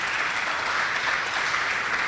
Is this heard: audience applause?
yes